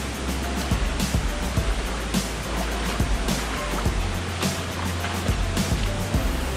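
A mountain stream on the way to a forest waterfall in Son La, Vietnam, rushes and splashes steadily, a dense continuous wash of water with scattered nearby splashes and a low rumble.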